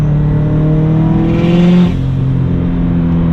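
Turbocharged 600 whp Subaru STI engine revving hard, with strong steady harmonics that climb in a burst of rising pitch and a turbo spool whine before dropping back to a loud idle, all close and without talk.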